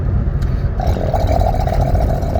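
A heavy Cummins diesel engine rumbles steadily up close, a deep low drone with a whining mid-range hum rising over it.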